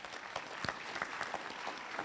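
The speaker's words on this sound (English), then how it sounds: "giving them a round of applause tonight" Applause for the Department of Trade at an award ceremony: a crowd claps steadily in a continuous, moderately distant wash of hand claps with no speech over it.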